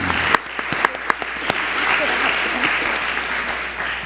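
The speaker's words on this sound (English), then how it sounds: "I want to give you a round of applause for a wonderful presentation." An audience at a Philadelphia public health grand rounds meeting applauds the speakers with steady, moderately loud clapping and a few sharper individual claps standing out near the start, continuing throughout.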